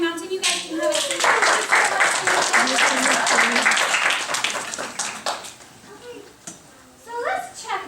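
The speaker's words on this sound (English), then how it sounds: "A round of applause for my mountain." Children clap in a burst of applause lasting several seconds in a classroom, with an adult voice speaking before and after and some kids' voices mixed in.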